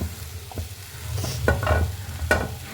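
Grated boiled egg and onion being stirred in a pan, with a soft sizzle under a few scraping utensil strokes against the pan, fairly quiet and close, no voices.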